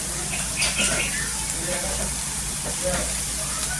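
Chopped tomatoes and cumin sizzle and fry on a hot iron tava while making spicy gavar thecha, a steady close crackle with soft stirring, under a voice talking.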